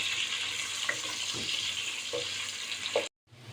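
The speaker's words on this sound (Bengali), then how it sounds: "এখন আমি পেঁয়াজটাকে ভালোভাবে একটু ভেজে নরম করে নিব" Chopped onion and a green chili frying in a pan with spices, a continuous soft sizzle with a few light stirring clicks, quiet and close, briefly cutting out near the end.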